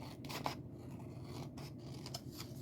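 Scissors cutting paper carefully along a straight line while making a hidden paperclip craft: faint, close snipping and rustling with a few sharp cuts, quiet and without speech.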